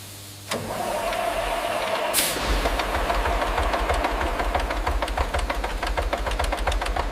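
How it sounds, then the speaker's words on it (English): A large heavy tank diesel engine cranks and catches, then settles into a loud, rough, rapidly pulsing diesel rumble that runs steadily with a rhythmic knock. "The massive diesel engine roars to life"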